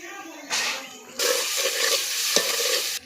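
Ginger garlic paste fries in a pan for mutton biryani, bursts of loud close sizzling that swell as it is stirred, with a sharp utensil knock partway through and no talk.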